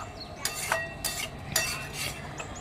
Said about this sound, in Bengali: এবার পুরোটাকে সুন্দর করে একসাথে কষবো যাতে মাছের মধ্যে পুরো মশলার ফ্লেভারটা ভালোভাবে ঢুকে যায়